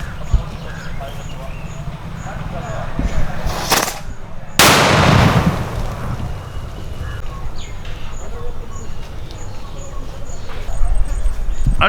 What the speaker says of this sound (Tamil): இது பேர் வந்து சின்ன மாப்பிள்ளை வெடி.